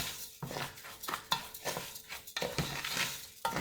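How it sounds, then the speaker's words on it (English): Spanish rice being stirred in a pot over high heat: a spoon scrapes and rattles against the pot in repeated strokes, with a soft sizzle running underneath, close and without talking. "And so I'm just stirring it because it is on a high heat."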